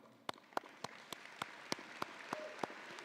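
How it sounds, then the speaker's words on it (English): A convocation audience claps in unison, a steady beat of sharp, distinct claps roughly three per second, sounding fairly distant in a large hall. "Most of us are probably comfortable with clapping."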